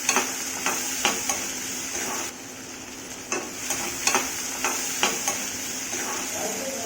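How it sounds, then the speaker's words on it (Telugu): Onions and green chillies fry in hot oil, a steady close sizzle broken by the repeated scrape and clack of a spoon stirring them around the pan. "అదే నూనెలో ఉల్లిపాయలు పచ్చిమిర్చి వేసుకొని బాగా కలుపుకోవాలి"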